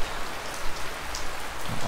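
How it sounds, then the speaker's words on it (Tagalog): Steady heavy rain pours down outdoors, a dense continuous patter on surfaces with no voices. "wala pa rin tigil yung ulan"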